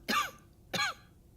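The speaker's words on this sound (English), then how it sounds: "She lets loose with another fit of coughing, loud enough this time to echo in the small dwelling." A woman in the fantasy role-playing game Pillars of Eternity 2: Deadfire coughs twice in quick succession inside a small dwelling, each cough short, harsh and close, with quiet between.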